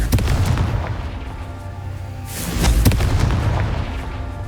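Confringo blasting curse in the PlayStation 5 game Hogwarts Legacy, a heavy booming explosion bursting midway with a sharp crack, rumbling low tones before and after, no talk.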